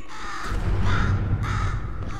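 A crow caws repeatedly in the Portal 2 video game, three harsh, evenly spaced calls ringing out over a low rumbling background.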